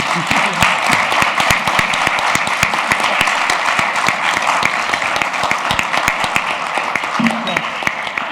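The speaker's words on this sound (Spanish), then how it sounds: "les pido un aplauso para nuestra presidenta." An audience applauds the speaker, a presenter of a draft constitution in Chile, with a dense, continuous round of close clapping that holds steady at full strength throughout.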